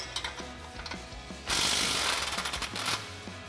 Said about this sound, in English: We're going to grab an 18mm swivel socket and an 18mm wrench, and we're going to remove this bolt and nut.